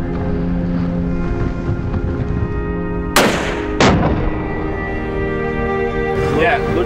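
Rifle fired at a distant target across a windy canyon: two sharp, loud cracks about half a second apart, then a softer report later, over a steady background hum and wind with some talk.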